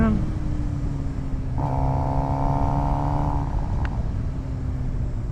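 Motorcycle engine running steadily close by, its tone shifting as the rider slows and brakes, with a continuous droning rumble throughout.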